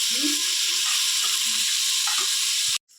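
Curry leaves hit hot oil already holding onion and tomato, setting off a loud, steady sizzle with crackling pops that stops suddenly at the end.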